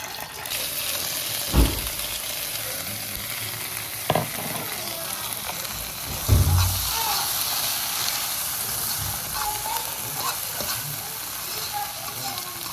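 Sauce with herbs sizzling and scorching in a pan, a dense loud hiss and crackle close up, with a few sharp thumps or utensil knocks standing out over the constant frying noise.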